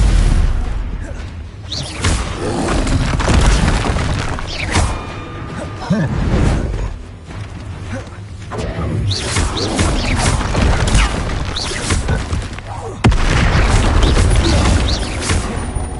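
Repeated blasting-curse explosions from Harry Potter boom and crash in loud bursts with whooshing debris, one sharp fresh blast near the end, under faint voices.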